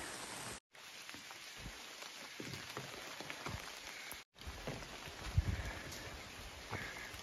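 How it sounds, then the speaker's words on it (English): Light rain drizzles steadily along the Appalachian Trail, a soft, even patter of raindrops on surfaces and leaves near a campsite, quiet and continuous with brief dropouts. "Hopefully it's just like this. Light drizzle."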